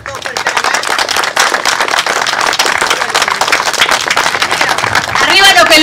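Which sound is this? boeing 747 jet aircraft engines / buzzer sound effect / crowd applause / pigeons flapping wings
crowd applause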